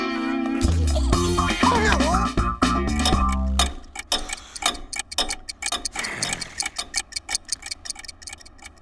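Alarm clocks ticking in a Titeuf cartoon, a steady sharp tick-tock rhythm running through the clip, loud at first over a musical passage, then continuing as regular clicks after the music stops.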